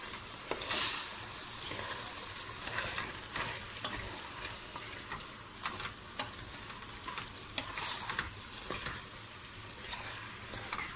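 Dry beans stirred and sizzling with tomato paste in a pot for a meat-and-bean stew, a steady soft frying hiss broken by occasional scrapes and clinks of stirring, close and fairly quiet with no talk.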